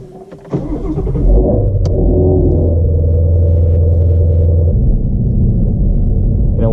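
A 2017 GT350 engine cranks and fires, surges in a loud rev, then settles into a deep, steady, rumbling idle heard close up with no talking.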